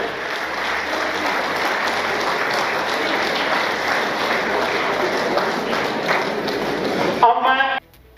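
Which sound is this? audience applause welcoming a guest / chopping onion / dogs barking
audience applause welcoming a guest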